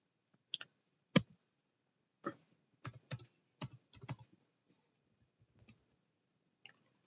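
Someone types on a computer keyboard while word processing, producing close, crisp key clicks in short irregular bursts separated by quiet pauses, alone with no talk.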